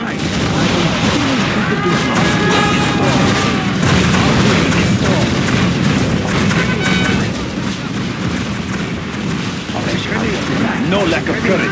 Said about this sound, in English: Toxic grenade prime.